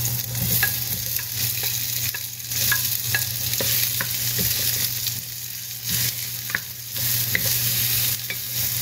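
Onions sautéing in a Salad Master surgical stainless steel pan, a steady sizzle with scattered scraping and stirring clicks over a constant low hum, close and alone for several seconds.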